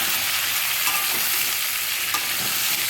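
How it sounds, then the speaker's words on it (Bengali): Potato and pumpkin pieces fry with turmeric and salt in hot oil, a steady, loud, dense sizzle running throughout with a few soft stirring clinks, no voices. "আলু আর কুমড়ো ছেড়ে দিলাম এর মধ্যে, দিয়ে হলুদ নুন দিয়ে দেবো, দিয়ে ভাজবো।"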